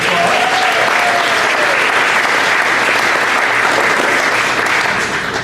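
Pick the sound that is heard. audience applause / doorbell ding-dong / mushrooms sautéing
audience applause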